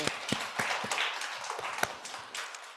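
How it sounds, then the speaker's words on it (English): A live audience applauds a discussion panel on queer and BIPOC DIY archives, a brief scattered round of hand claps with sharp individual slaps standing out, moderately distant and tapering off. "So we can have a round of applause for our panel."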